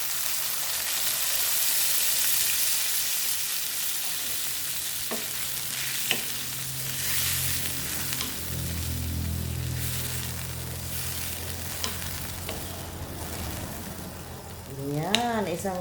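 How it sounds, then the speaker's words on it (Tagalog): Chicken sautéed in a pan for pancit bihon sizzles and fries in a broad continuous hiss as a glass of water is poured in, with a few clinks and a voice briefly speaking near the end. "Lagyan ng isang basong water district."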